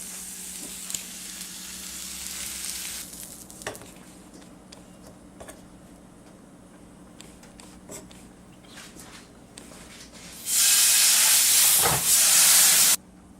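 Apple slices fry in a hot pan for a curry cauliflower burger, a steady close sizzle with occasional clicks and taps, then a sudden loud burst of hissing spatter near the end before it drops back.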